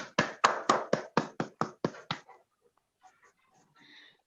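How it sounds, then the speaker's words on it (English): A short burst of hand claps greets a second-prize winner at a month-end prize ceremony for a competition. About nine sharp, evenly spaced claps sound close and fairly loud, then stop and leave near silence with faint stirring. "Please give a huge round of applause to Salvi Aditya."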